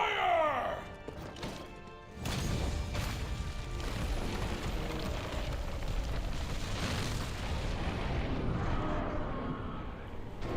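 Dragonator siege weapon firing in Monster Hunter World against Zorah Magdaros: a sudden loud booming blast followed by sustained rumbling, crashing roar that continues for several seconds.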